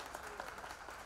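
Applause for new BJP members at a party merger event, a brief burst of dense clapping from a crowd, fairly faint and continuous.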